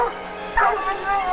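Hunting dogs bark and yip in short excited bursts as they set off on the scent of a jaguar in the forest, fairly close, with a voice talking over them.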